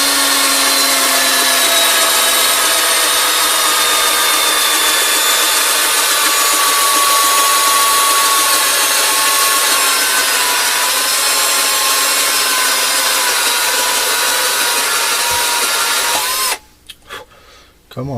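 A cordless drill grinds down an RC car axle, a loud, steady high-pitched whine sustained for many seconds before cutting out abruptly near the end, followed by brief clatter.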